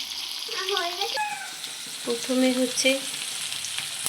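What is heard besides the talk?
garlic and onion frying in oil and butter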